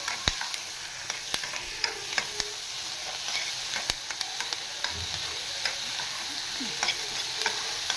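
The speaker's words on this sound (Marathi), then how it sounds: "पनीरचे क्यूब्स पण फ्राय करून घेतले बटरमध्ये." Paneer cubes fry in butter in a pan, giving a soft, continuous sizzle broken by frequent light clicks and scrapes of stirring, close by and with no voices.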